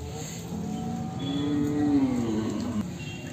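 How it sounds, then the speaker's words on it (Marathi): At a cow market in Baramati, a cow lets out a single drawn-out moo that swells and falls, loud and close above faint background noise. "ही दुसऱ्या वेताची गाय आहे"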